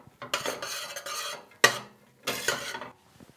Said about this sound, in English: just take a small scoopful and put it in with my pasta and stir it around